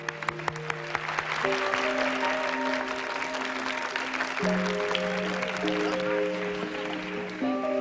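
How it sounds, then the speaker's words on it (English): Applause for festival contestants at the close of the event, steady crowd clapping running throughout beneath sustained tonal music notes that shift pitch every couple of seconds. "Let's have a round of applause for all the contestants"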